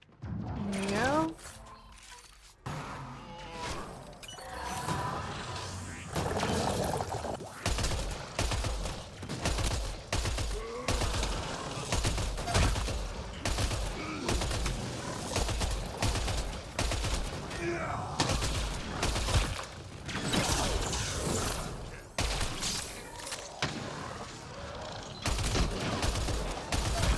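Rapid gunfire in the sci-fi shooter Mass Effect Andromeda rattles in repeated bursts and single shots, loud and near, mixed with game effects and character voices, and a player talks over much of the action.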